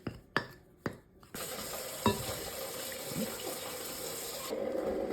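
A cooking mixture stirred with water in a home kitchen: a few sharp knocks open the clip, then a steady wet sloshing and scraping continues without talk, with a faint tap-like hiss toward the end.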